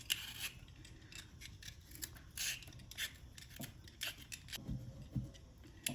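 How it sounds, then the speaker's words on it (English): Pumpkin skin being pared off with a handheld peeler, heard as a string of close, dry scraping strokes in an irregular rhythm, some sharper and louder than others, with no talking. "I use this peeler. Get off the skin really easy."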